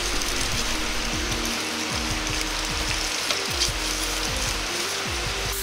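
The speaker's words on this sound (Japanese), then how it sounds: "肉はできるだけフライパンに薄く広げていき均等に火が通るようにしていきます。" Thin slices of pork spread in a frying pan give off a steady broadband sizzle that fills the whole clip, with a recurring low mechanical clicking underneath, close and even in loudness.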